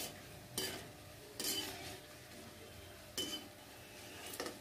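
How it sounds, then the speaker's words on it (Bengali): Fried nimki snacks are moved into a bowl, giving soft scraping and clinking of a utensil against metal in a few separate bursts over a steady low background. "এবার আমি এটা একটা পাত্রে তুলে নিচ্ছি"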